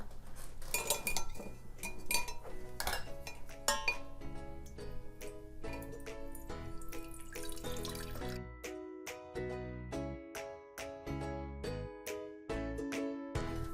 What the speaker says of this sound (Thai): เมื่อกาแฟต้มเสร็จแล้วนะคะ ทีนี้เราก็มา กรองนะคะ